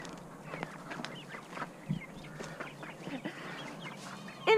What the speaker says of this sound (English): this is Quackers, the cayuga